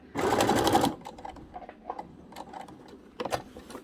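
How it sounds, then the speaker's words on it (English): Sewing machine stitching around the pocket of a ribbon skirt, a short close burst of rapid stitching, then quieter intermittent clicks and a brief second burst near the end, with some speech. "And then just sew all the way around the pocket."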